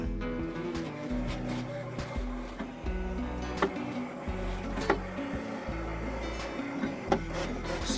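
A vinyl cutter works through a logo section, producing a continuous motorized whir with shifting pitch and small clicks and ticks as the blade and carriage move back and forth at moderate volume.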